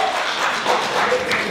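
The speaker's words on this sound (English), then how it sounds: "give yourself a round of applause" Audience clapping during a talk on money and marriage, a steady patter of many hands at moderate loudness, lasting the whole moment with faint crowd murmur beneath.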